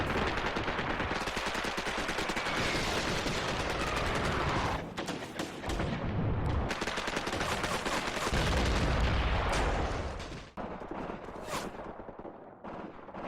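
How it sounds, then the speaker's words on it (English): MG-34 machine guns rattle in Graviteam: Fateful Strike, a World War II battle game, with continuous dense bursts of gunfire and heavy impacts rolling loudly throughout, briefly thinning before the firing resumes. "I believe the MG-34s are firing above their position, getting the troops in the back"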